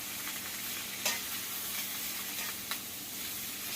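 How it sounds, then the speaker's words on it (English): Vegetables for beef lo mein frying in a pan: steady soft sizzling throughout, with a couple of brief scraping stirs, fairly quiet and close, with no talking. "So I'm going to cook them down, my vegetables."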